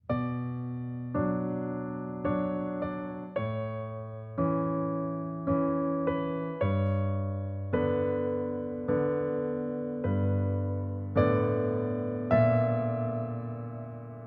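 A sustained piano chord progression, four slow chords repeated in a steady cycle, each struck and left ringing before the next, with no voices.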